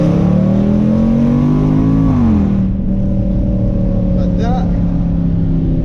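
A Range Rover SVR engine drones loudly and steadily, its pitch climbing as it revs and accelerates, then settling after a gear shift, with someone talking over it.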